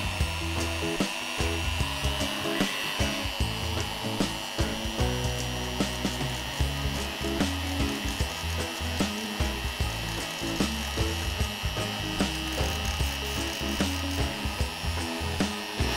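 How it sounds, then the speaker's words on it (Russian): A rotary tool running at low speed sands the contacts of battery cells, a continuous gritty, rasping whir with rapid irregular scraping pulses, close and steady throughout. "Поэтому я беру бормашину и на маленьких оборотах"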